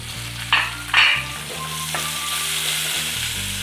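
Onions and potatoes fry in a pan with turmeric and salt, a continuous close sizzle under a low hum, with two louder bursts near the start as the pan is stirred.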